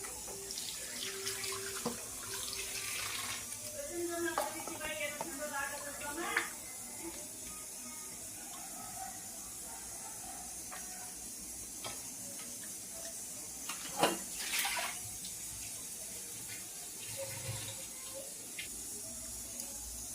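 Raw chicken pieces, already cleaned, are rinsed under a running kitchen tap, giving a steady splashing flow of water into a sink with occasional knocks and clinks of handling.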